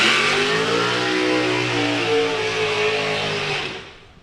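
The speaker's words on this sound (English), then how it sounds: "next up, it's the two-seater Dragster. Just taking a passenger down the quarter mile" A two-seater dragster carrying a passenger roars down the quarter mile at Santa Pod Raceway, a loud rising engine scream that sweeps upward in pitch for about three seconds and then fades quickly into the distance.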